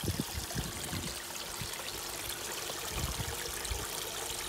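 Water splashing and trickling in a garden pond fitted with a filter, a steady close wash of running water with small splashes throughout and no talk.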